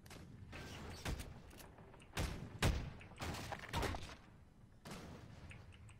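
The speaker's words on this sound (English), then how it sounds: "You shoot the cannons, God damn it" Pirate ship cannons in Garry's Mod boom in a ragged series of several heavy, fairly distant thuds spread over a few seconds, fired irregularly rather than in steady rhythm.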